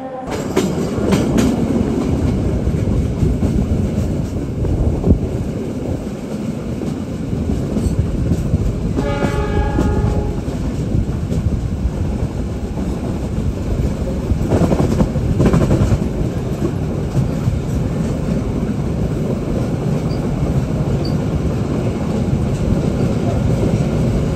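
The Sembrani train rumbles and clatters steadily on the rails leaving Semarang, close and loud, with a horn sounding briefly near the middle as it moves off.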